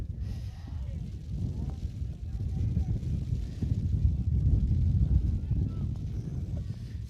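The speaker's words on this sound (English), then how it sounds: "Not only it's raining, it's windy." Low, blustery wind and rain buffet the microphone at an outdoor boys lacrosse game, a constant rumbling roar, steady and fairly loud throughout.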